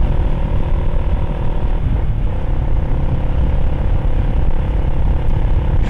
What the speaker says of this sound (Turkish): Şu an mesela motosiklet 6. viteste.